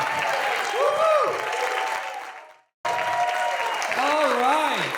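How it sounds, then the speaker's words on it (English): Audience applause at a contest event, dense clapping with whoops and voices calling over it, broken by a brief silent gap before resuming just as loud. "Round of applause."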